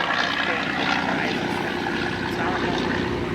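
A vintage airplane dives at an air show at Old Rhinebeck Aerodrome, its propeller engine droning steadily and fairly loud over open-air background noise.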